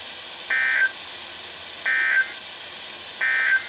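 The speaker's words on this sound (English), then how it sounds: "The following tones will conclude this test." Emergency Alert System weekly test closing tones: three identical short two-tone data bursts, evenly spaced about 1.3 seconds apart, clear over a low background hiss with no talk.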